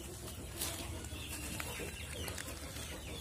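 Chickens cluck and peck while eating bread on a farm, with soft scattered clucks and bird calls over constant background noise, close by and moderately loud.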